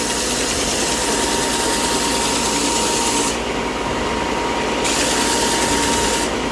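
Sandpaper rubs steadily against a wooden fly fishing reel body, making a continuous close, loud rasping scrape with no pauses.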